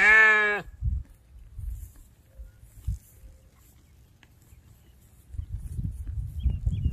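A St. Croix hair sheep gives one loud, clear bleat up close at the start, followed by quiet low thumps and rustling of the farm setting that grow into steady rumbling noise near the end.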